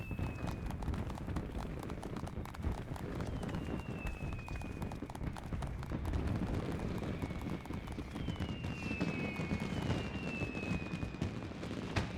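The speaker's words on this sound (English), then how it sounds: "And there's the special fireworks." Special fireworks in the video game Final Fantasy XIV, whistling rockets rising over a dense crackling, rumbling bed of noise, steady and loud throughout, with whistles clustering toward the end.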